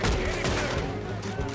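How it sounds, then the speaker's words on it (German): Dense gunfire from Red Dead Redemption 2 bursts in rapid overlapping shots, many guns firing at once, loud and close in a brief volley. "wie viele Leute schießen denn da"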